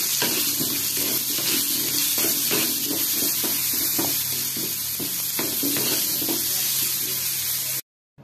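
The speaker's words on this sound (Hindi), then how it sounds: "एथिरे आलू को मध्य देई भाजीबा" Potatoes fry in hot oil in a kadai, a steady broadband sizzle with repeated scraping stir strokes, loud and close, before an abrupt cutoff near the end.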